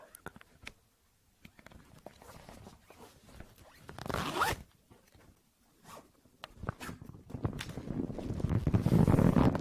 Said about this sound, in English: These are the zippers in the dark.